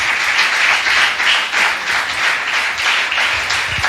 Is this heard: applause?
yes